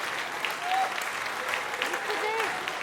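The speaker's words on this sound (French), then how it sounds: "Un applaudissement, un tonnerre d'applaudissements pour Barbara." Applause for a person outdoors at a parking area after a snowshoe hike in the Mercantour mountains, a steady dense clapping lasting about three seconds with a few faint voices mixed in.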